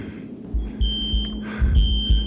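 A fire alarm in a FNAF VHS tape setting beeps in repeated high tones over rhythmic low thumps and a steady hum, fairly loud and without voices.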